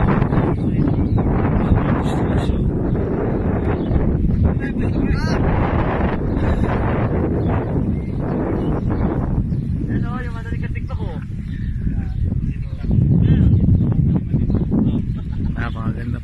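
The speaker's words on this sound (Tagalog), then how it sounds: "napakalamig ng simoy ng hangin" Strong wind buffets the microphone in a steady roar while people talk over it, with water and engine hum beneath on a moving fishing boat in New Zealand.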